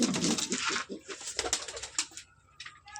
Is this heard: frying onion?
no